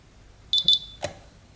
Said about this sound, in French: une fois désarmée, on a le petit bip